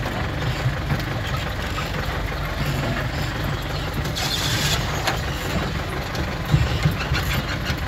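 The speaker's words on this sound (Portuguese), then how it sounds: "esse caminhão D20 é valente demais. Ela sobe aqui brincando aqui" Chevrolet D20 truck loaded with wood labors up a wet slope, its heavy engine droning steadily and loudly throughout, with occasional knocks and rattles over the rumble.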